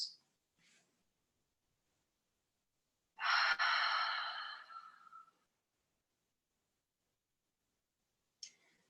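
One long audible exhale during a yoga class, a breathy rush of air lasting about two seconds and fading out, surrounded by near silence with a couple of faint breaths.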